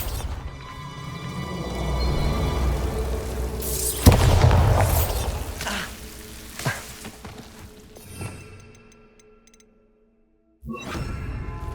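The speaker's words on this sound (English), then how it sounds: "Bombarder!" The Bombarda spell in Hogwarts Legacy bursts with a sharp loud boom about four seconds in, trailing whooshes and crackling debris that fade to near silence before a final burst of noise.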